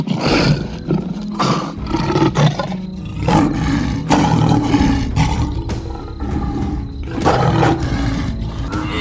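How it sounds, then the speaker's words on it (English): A powerful lion roar, deep and rolling, repeating in long throaty bursts that dominate the scene, loud and close. "a deep, rolling roar that travels through the ground like the voice of ancient authority"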